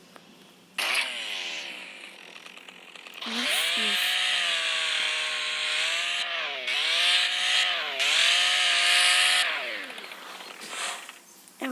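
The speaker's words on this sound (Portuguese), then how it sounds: "Agora uma motosserra" Chainsaw engine revving loudly in sustained bursts with rising and falling pitch, starting after a brief quieter passage and running for most of the span, with a short pause midway.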